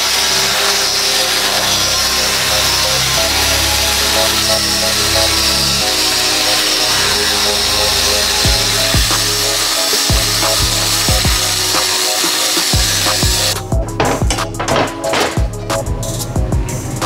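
Steel plate for a Toyota pickup front bumper being cut with a power tool, a loud continuous grinding whine that runs throughout, with the pitch and texture shifting partway through the cut.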